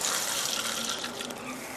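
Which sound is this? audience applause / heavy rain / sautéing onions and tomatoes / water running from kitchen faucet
water running from kitchen faucet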